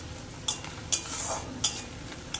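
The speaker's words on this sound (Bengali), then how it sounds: "তার উপরে পেঁয়াজ দিয়ে দিয়েছি, সাথে সাথে নাড়াচাড়া দিয়ে একটু লাল করে ভেজে নেব।" Onions fry with cloves, cinnamon and cardamom in a pan under a soft, steady sizzle, broken by a few sharp metallic clacks of a utensil stirring against the pan, close and without talk.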